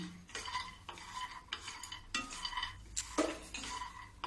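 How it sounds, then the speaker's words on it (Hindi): Almonds and pistachios being stirred while dry-roasting in a pan over a low flame, with a steady rhythm of scraping and rattling strokes and a few light clinks, close by with no talking. "बादाम और पिस्ता तीनों के मैं धीमी गैस में भूंजूंगी"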